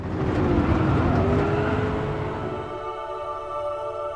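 A race car engine in Gran Turismo 7 roars loudly and close, its pitch sliding downward before settling into a steadier drone, with no voices.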